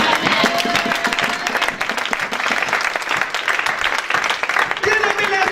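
A church congregation claps together in sustained dense applause, loud and near, with a preacher's voice carrying over it.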